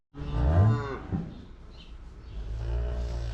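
A cow moos loudly and close, a long low call in the first second, then a second, quieter lowing call near the end, at a farm during calving season.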